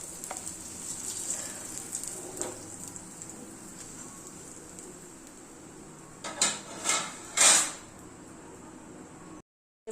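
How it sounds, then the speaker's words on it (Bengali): Egg chops deep-fry in hot oil in a wok with a soft, steady sizzle, then a few louder crackling bursts toward the end as pieces go in or are turned. "এবার আমি কড়াইতে আগে থেকে তেল দিয়েছি, মুচমুচা করে ভেজে নেব।"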